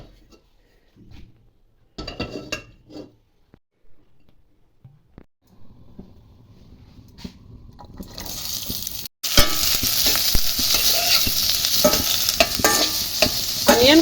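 Onions sizzle and fry in a pan as the base for balti chicken gravy, starting with sparse clinks and stirring that build into a steady, loud sizzle for the second half.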